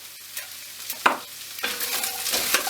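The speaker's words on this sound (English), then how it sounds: "And give it a stir, and again," Chilli con carne mince frying in a pan over medium heat, with a few scraping stirs and knocks, followed by a rising sizzle that stays close and clear, no one speaking.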